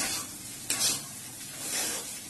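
A spoon scrapes and stirs sugar into chirer polau sizzling in a pan, with soft continuous frying hiss and a couple of brief scraping strokes, fairly quiet and without talk.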